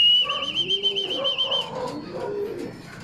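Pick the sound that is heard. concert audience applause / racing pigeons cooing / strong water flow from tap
racing pigeons cooing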